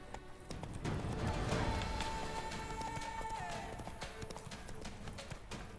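In The Witcher 3: Wild Hunt, a horse gallops in steady, quick clip-clop hoofbeats. The sound stays fairly faint and continuous, with a held musical tone in the game audio.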